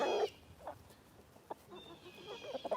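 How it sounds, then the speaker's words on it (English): A big young rooster on a farm gives a loud crow at the start, followed by scattered clucks and soft fowl calls close by. Other birds add faint chirps in the background. "That rooster is getting big."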